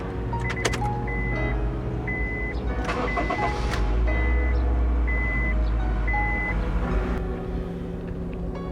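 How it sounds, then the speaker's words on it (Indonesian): A 2012 Honda Freed S facelift, a used compact car with an ordinary key, comes to life and idles steadily close by, its even engine hum joined by repeated electronic warning beeps from the cabin. "Mari kita nyalakan mesinnya."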